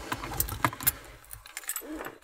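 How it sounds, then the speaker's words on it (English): Car keys jangle and clink in a few quick metallic bursts close by, quiet and brief, picked up before working on an LS turbo car's wideband gauge wiring. "grab the keys here."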